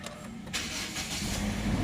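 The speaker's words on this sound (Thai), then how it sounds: "นี่คือเสียงสตาร์ทเครื่องคุณผู้ชม" A 2017 Toyota Corolla Altis 1.6G engine turns over and catches, settling into a steady low idle that continues to the end.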